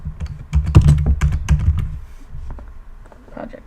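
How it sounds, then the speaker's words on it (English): Keystrokes on a computer keyboard while entering a Java project name, a close run of rapid clacking taps that bunches into a dense burst early on and thins to a few scattered presses near the end. "Right here, you're going to type in project 1."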